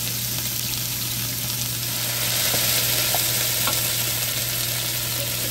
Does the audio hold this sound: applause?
no